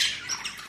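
A pet bird in an Australian aviary gives a close, loud, harsh squawk that holds steadily for under a second, with no voices alongside.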